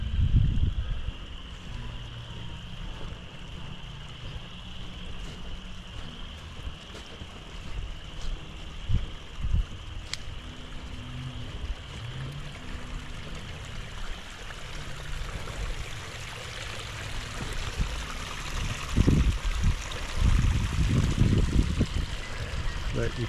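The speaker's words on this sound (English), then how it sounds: "My creek's flowing in really well." A creek flows steadily into a backyard pond, its continuous trickling rush close and moderate in level, with a few soft thumps and bumps near the end.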